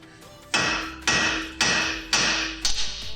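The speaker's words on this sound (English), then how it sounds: "There's no other way really about going about it other than using a hammer." A hammer strikes metal five times at a steady pace, driving a rear suspension arm out of the hub on a Toyota GT86 in a workshop, with each loud, close blow ringing briefly before the next.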